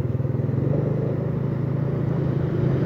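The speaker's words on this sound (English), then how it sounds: "Nice truck." A truck rumbles past on a street in District 1, Saigon, Vietnam: a steady, loud, low engine drone with a slight throbbing pulse that holds for a few seconds.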